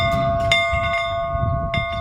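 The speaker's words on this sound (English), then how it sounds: "Once they hear the school bell ring, they go back in time." A school bell rings in a historic one-room schoolhouse, clear repeated metallic strikes with a sustained ringing tone, near and alone.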